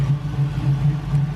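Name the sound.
LS-swapped Camaro engine idling and revving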